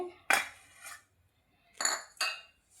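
Spoon clinking against a pot while ghee is stirred into a jaggery sunnundalu mixture, a few sharp metallic scrapes in separate bursts with quiet pauses between.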